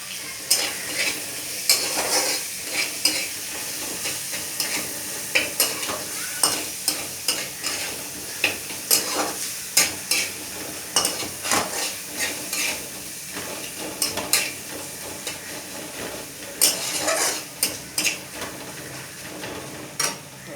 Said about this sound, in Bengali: এবারে দেখুন এই দিয়ে দিলাম মশলা বাটা, আদা, জিরে, ধনে, গোলমরিচ, কাঁচা লঙ্কা, টমেটো দিয়ে ভালো করে একটু কষিয়ে